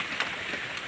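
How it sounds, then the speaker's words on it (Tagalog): Rain falling steadily on Kawa-Kawa Hill in Ligao City, a soft continuous hiss of drops with no voices. "Umuulan."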